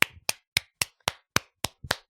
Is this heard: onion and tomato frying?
no